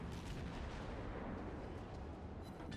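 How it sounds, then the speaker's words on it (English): The battleship Fuso fires its heavy guns in World of Warships, a dense roaring barrage of booms and rumbling that stays loud throughout the short burst. "That Fuso is also firing at me."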